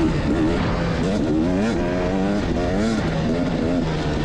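A KTM 250XE dirt bike engine revs up and down in quick, wavering bursts during an enduro race lap, loud and close with constant rise-and-fall throttle changes.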